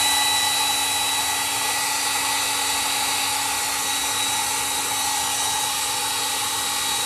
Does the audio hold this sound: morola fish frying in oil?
no